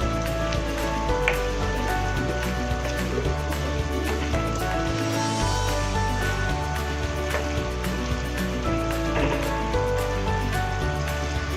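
Potato pieces frying for aloo methi give a steady, dense sizzle and crackle in hot oil, close and continuous throughout with no talk.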